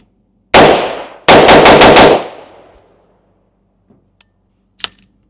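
Gunfire on private rural property: a sharp shot followed by a rapid burst of about five shots, loud and close, with echoes trailing off, then a few faint distant pops.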